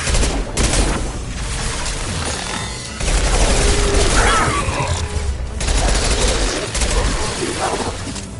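Heavy combat gunfire in Mass Effect 2, with dense overlapping bursts and booming impacts that keep up a loud, almost unbroken barrage.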